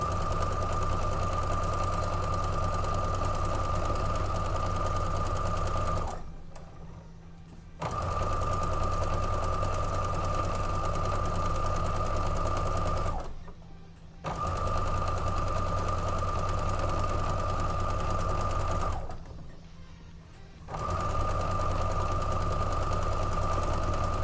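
A sewing machine runs straight stitches along quilt strips in three long, steady bursts of loud, even mechanical humming, each separated by a brief pause, with no voices.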